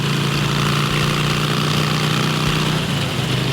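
A motorcycle engine runs steadily on an open road on a mild day, a continuous low drone with a constant hum and no breaks or voices.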